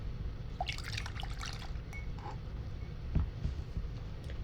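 A paintbrush rinsed in a cup of water while doing acrylic painting, with soft drips, light clinks against the glass and faint trickling, quiet and close over a low background hum.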